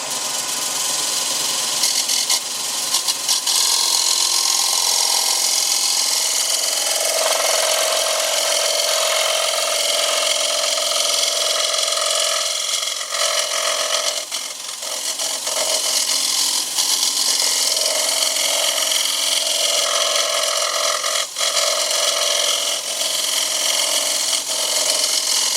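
Steel scraper taking fine cuts across a dry, rough-turned wooden bowl blank spinning on a wood lathe, a steady loud scraping hiss over the lathe's hum, continuous throughout with slight shifts in pitch.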